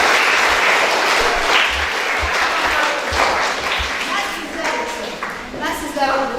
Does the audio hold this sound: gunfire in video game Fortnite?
no